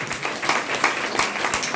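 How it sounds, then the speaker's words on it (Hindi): An audience claps for a young girl at an indoor program in Bhagwanpur, a brisk burst of hand claps of moderate loudness with no voices over it. "जोरदार ताली इस बच्ची के लिए।"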